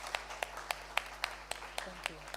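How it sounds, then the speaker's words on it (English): A business event audience gives a round of applause, heard as a sparse, regular series of sharp individual claps, roughly four per second, fairly faint, with a low steady hum and a voice beneath. "let's give Telecel a round of applause"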